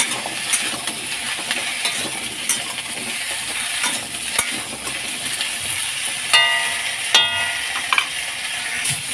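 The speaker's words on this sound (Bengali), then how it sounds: "নাড়াচাড়া করে 3 মিনিট ভেজে নিয়েছি।" Pieces of elephant foot yam and potato stir-fry in hot oil over low to medium flame, with a continuous close sizzle broken by scraping and metallic spatula clinks against the pan, no voices.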